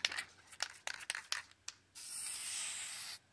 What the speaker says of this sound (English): We're gonna go ahead and spray paint this